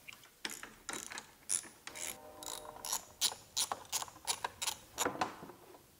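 Socket ratchet clicking while removing screws from a panel on a Honda EU6500is generator, a quick series of sharp close ratcheting clicks in an uneven rhythm, with no talking.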